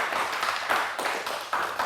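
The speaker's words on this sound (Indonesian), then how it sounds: "Oke saudara-saudara boleh tepuk tangan dulu dong untuk kita semua" Studio audience clapping during an Indonesian talk show, a steady dense patter of many hands with a few swelling bursts, fairly close and continuous with no talking over it.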